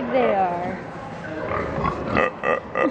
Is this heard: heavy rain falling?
no